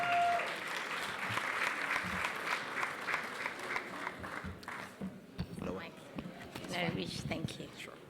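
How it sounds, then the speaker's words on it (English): A crowded room at a 2019 CCMA Indaba gala dinner breaks into sustained applause, a dense, steady wash of clapping that thins and grows more scattered toward the end. "a round of applause as she approaches"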